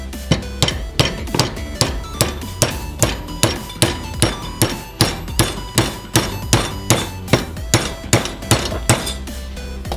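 A 2 lb cross peen hammer restoration: a wedge is struck into the hammer handle with steady, evenly spaced sharp metallic blows, loud and close, about two per second, with no talking.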